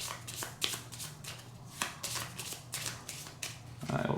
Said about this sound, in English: we're gonna shuffle and get a whole new set of cards again